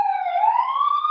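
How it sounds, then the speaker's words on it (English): A New York City police siren wails steadily in a smooth rising tone, clear and fairly loud, with no talking. "Is that a New York City siren I can hear in the background?"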